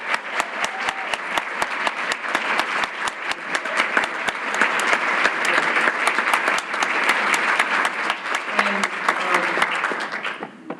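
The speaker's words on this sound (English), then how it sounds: "One more round of applause for both." Crowd at a theatre education conference morning session applauding a student diversity panel, thick continuous clapping that holds steady throughout and fades slightly at the very end.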